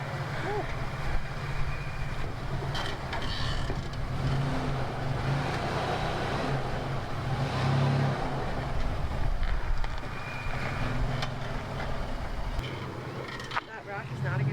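A 3rd gen Toyota 4Runner crawls slowly over rocks off-road, a low steady engine drone with occasional scrapes and knocks, while people talk nearby.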